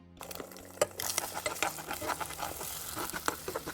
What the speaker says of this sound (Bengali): আমি ডিমটা না চেষ্টা করি সর্ষের তেলে ভাজার